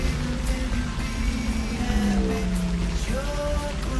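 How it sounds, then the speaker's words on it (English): Steady rain falls and patters across a surface in a continuous wash, with low, sustained tonal background music running beneath it and no speech. "It's raining here too."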